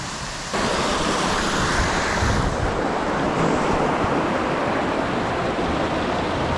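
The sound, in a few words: floodwater flowing through a creek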